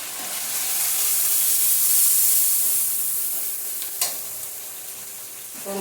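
Spices hissing in a pan just after a splash of water goes in, a broad steamy hiss that swells and then eases, with a sharp stir or scrape about two-thirds through, no talking.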